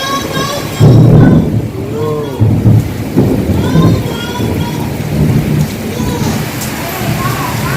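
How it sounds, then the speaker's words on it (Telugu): A village thunderstorm rumbles with repeated deep thunder bursts over steady rain, loud and close, while children's voices chatter and call out across the scene. "ఇంకా వాన్ అయితే ఓకే కానీ ఉరుములు మెరుపులు ఉన్నాయన్నమాట"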